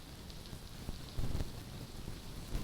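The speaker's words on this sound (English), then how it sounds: "Really is bucketing it down here in South Carolina." Heavy rain pours down at a football stadium in South Carolina during a night soccer match, a steady, dense hiss of downpour with a few louder gusts and no voices.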